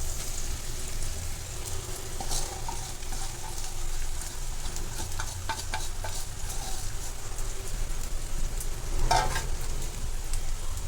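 Sabudana is stirred into potatoes frying in oil for Maharashtrian khichdi, a steady close sizzle with scraping stirs throughout and a sharper clink near the end, with no talking.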